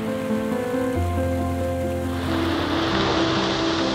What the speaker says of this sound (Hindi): मेरे पीछे आप झरना देख सकते हो, इसे झरना का जो व्यू आता है ऑसम